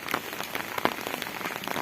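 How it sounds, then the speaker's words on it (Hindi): Heavy rain pours over a garden of potted chrysanthemums, a thick continuous downpour with scattered sharp splats of nearby drops, loud and close with no voices. "तो अब भी आप देख सकते हो कि बारिश काफ़ी हो रही है।"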